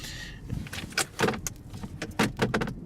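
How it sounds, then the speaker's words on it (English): The glove box of a 2017 Toyota Yaris iA subcompact slams shut with a series of sharp plastic thumps and rattles, close and fairly loud inside the cabin. "the glove box slams right down"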